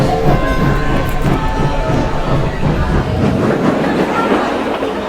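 A passenger train sets off, rumbling and clattering along the rails, a loud continuous rolling noise with rhythmic clanks, heard from close by.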